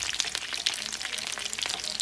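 Wontons frying in oil over medium heat, a steady dense crackling sizzle with scattered sharp pops, close and continuous with no talk.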